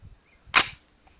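A single loud, sharp crack from an AR-15 rifle in 5.56 fitted with a custom pocket muzzle brake, fired close by, with a brief decaying tail after the report.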